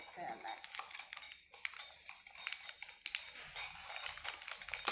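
A spoon clinks and scrapes around a cup while a homemade energy drink is mixed, with light rapid tinkling and tapping at low volume and faint voices nearby.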